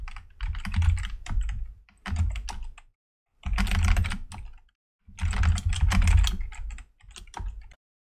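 Rapid bursts of typing on a computer keyboard while writing gRPC code, dense clattering keystrokes in several runs separated by short silent pauses, close and clear.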